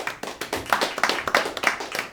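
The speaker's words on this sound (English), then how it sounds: "So start clapping if you think the winner was Chris Crespo." Comedy club audience at a roast battle claps steadily in a fast, even rhythm to vote for a winner, with many hands heard close and continuous throughout.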